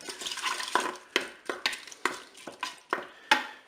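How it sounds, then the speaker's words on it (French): Broth and white wine being stirred in a Cookeo pot: a utensil scrapes and knocks against the pot in about ten quick, uneven strokes over a soft liquid sizzle, close and clear with no talking. "Je vais mélanger un petit peu l'ensemble."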